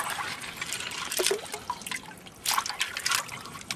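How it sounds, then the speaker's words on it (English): Rocks are rinsed in water during gold panning outdoors, producing continuous trickling and sloshing with a couple of stronger splashy surges, close and fairly loud. "I'm just washing a couple of these rocks off here."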